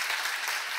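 A church seminar congregation claps together in a dense, even burst of applause that lasts less than a second.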